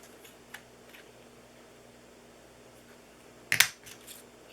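A single quick snip of scissors cutting a small piece off a paper craft, a brief close crisp click amid a quiet room with faint hum, followed by a couple of softer ticks.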